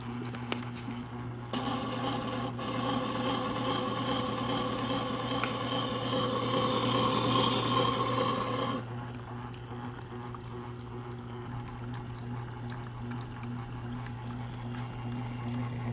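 VEVOR 8-inch wet sharpening wheel grinding a blade with water, a steady humming motor with a scraping, rubbing grind that runs for about seven seconds before the tool is lifted away, leaving only the motor hum.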